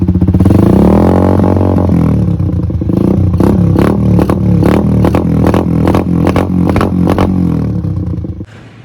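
An old Honda TMX 125 motorcycle engine starts with a cranking rumble, then settles into a loud, close idle, its rapid thumping exhaust pulses steady for several seconds before cutting off.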